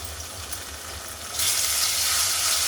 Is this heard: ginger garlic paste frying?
yes